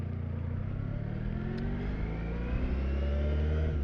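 Honda ST1100 sport-touring motorcycle with a shaft-drive V4 of just under 1100 cc, its engine running with a deep, close drone that rises slightly as it revs toward the end.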